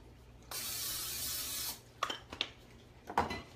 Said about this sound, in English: And I'm going to spray my pan.